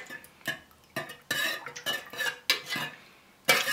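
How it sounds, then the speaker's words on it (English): Melted wax with coffee fragrance oil is stirred in a container, the utensil scraping and clinking against the sides in repeated short strokes, close and fairly quiet. "So make sure you mix it in good and proper."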